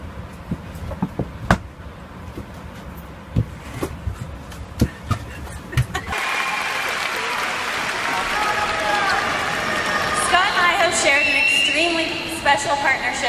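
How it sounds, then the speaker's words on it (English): An audience applauding at a figure skating event, sparse claps at first and then fuller sustained clapping and cheering. Talk can be heard over it. "People always clap for that."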